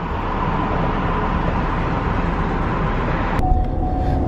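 Loud, steady road and wind roar fills the cab of a 2020 Ford Super Duty F-250 Lariat driving with the window down, a constant broadband rush without voices.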